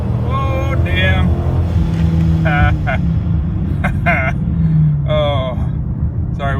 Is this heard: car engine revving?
yes